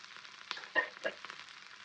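Onions dropped into hot oil with curry leaves and green chillies in a pan for an egg tava fry, giving a soft, quiet sizzle with a couple of brief crackling bursts.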